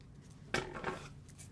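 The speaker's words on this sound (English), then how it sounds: "See my scissor in there just leaning up against the edge, and then cut." Scissors snip through crafting card along a die-cut shaker panel edge: one crisp close cut, then a short softer rasp as the blades slide on, alone in a quiet room.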